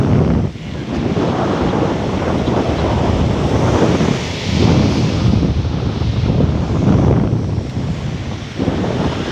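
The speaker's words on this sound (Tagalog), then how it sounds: "Tapos yung alon, ang lalaki." Big ocean waves rolling in at Agoho beach, a steady, loud roar of surf with gusting wind buffeting the microphone and swelling surges throughout, no voices.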